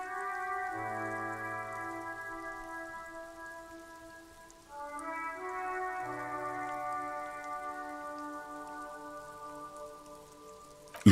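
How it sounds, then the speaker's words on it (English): Steady rain falls across the city of Revachol in the video game Disco Elysium, a continuous wash beneath sustained musical tones that shift midway, with no voices. "All around you, rain falls on the great city of Revachol."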